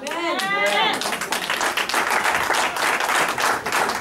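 Church congregation bursts into steady, dense applause for Jesus, loud and continuous, with a voice shouting over the start of the clapping.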